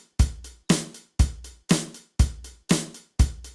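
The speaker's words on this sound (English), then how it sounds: "So this is me delaying the snare" A repeating electronic drum pattern from the PolyNome metronome app, a punchy kick-and-snare hit about twice per second, each followed closely by a delayed, flammed snare echo, steady and alone.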